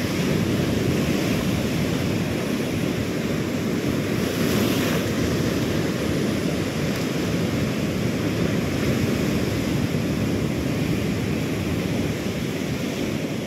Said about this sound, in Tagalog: Habol siya ng alon eh.